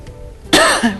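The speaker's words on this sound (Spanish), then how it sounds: "Me cogió la tos." A single sharp cough bursts out, followed by a brief throaty catch, after a quiet moment.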